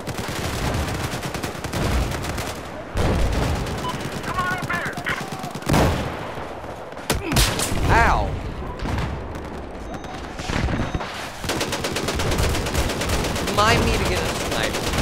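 Video game gunfire, loud bursts of automatic and single shots in rapid clusters with sharp cracks around the middle, under a busy mix of game sound and people talking.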